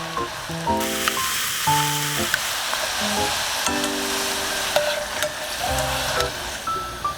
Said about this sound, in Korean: 자투리 감자는 버리지 말고 그대로 튀겨보세요.